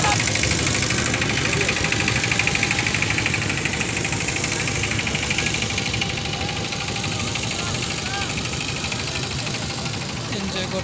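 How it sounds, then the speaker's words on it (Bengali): A boat engine chugs steadily on a river near a 201-dome mosque, a continuous close rumble with a knocking rhythm that holds throughout while people talk over it. "নৌকা দিয়ে ঘুরতেছে নদীতে"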